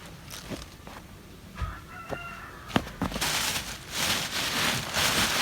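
Chickens cluck and call in short bursts in a snowy village garden in Turkey, amid scattered knocks and rustling, with a rising hiss of noise toward the end.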